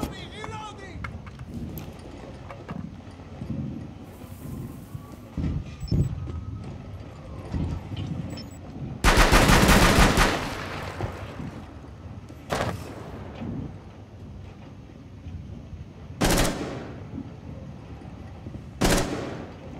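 Gunfire bursts in Rainbow Six Siege on the Favela map, several loud sharp volleys spread across the stretch, the biggest about midway, with players talking between and over the shots.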